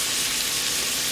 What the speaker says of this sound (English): Don't let that garlic burn. So while that's sauteing